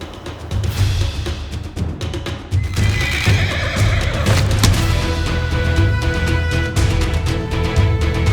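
A horse neighs loudly and repeatedly over a dense, rumbling background, with hoofbeats and commotion throughout.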